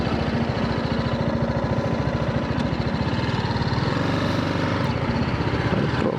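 A BMW G310R motorcycle's single-cylinder engine runs steadily, a close, even putter with a rapid rhythmic pulse and no voices.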